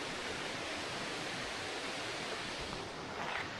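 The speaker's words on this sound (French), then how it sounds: "là on entend l'eau et là on va juste aller voir la cascade après" A steady broadband rush of falling water from a waterfall heard from a distant viewpoint, constant and fairly soft, with no voices.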